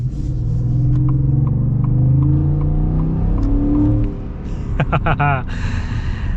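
A deep 5.0-litre V8 pickup truck engine rumbles and revs steadily, then drops off as a voice speaks over the idling motor.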